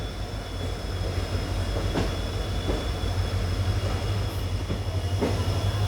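Mangaluru–Bengaluru express passenger train rolling along, heard from inside the coach as a steady rumble with faint intermittent wheel clacks over the rail joints and a thin high whine, no voices.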